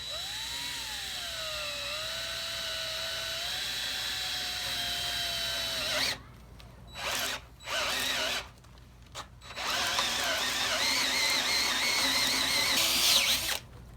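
A power drill with a Forstner bit bores into timber for timber framing. It whines loudly with shifting pitch, cuts off briefly several times in short stops and starts, then roars back up strongly toward the end.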